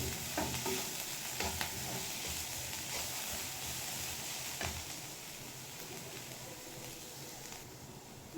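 Onion and garlic sizzle steadily in a hot pan while a spoon stirs them through. The frying hiss is close and even, with occasional scraping strokes and no talking.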